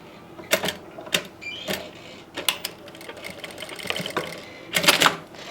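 Sewing machine running in short bursts while stitching round piping onto fabric, with quick mechanical rattling runs separated by pauses, close and fairly loud.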